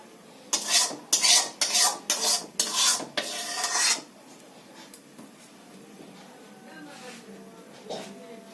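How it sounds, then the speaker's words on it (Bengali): Pointed gourd and fish mustard curry scraped out of a pan, heard as about seven loud rhythmic spoon scrapes against metal, then quieter faint clinks and rustles afterward. "তো বন্ধুরা তরকারিটা আমি এখন ঢেলে নেব।"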